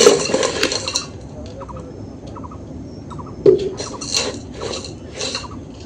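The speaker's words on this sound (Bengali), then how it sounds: "এই স্ট্যান্ডটা এর মধ্যে রেখে দিচ্ছি।" A metal stand is set into a pot of sand resting on a clay oven, giving gritty rasping scrapes and a few sharp metallic clinks, close and moderately loud, with small knocks spread across the moment.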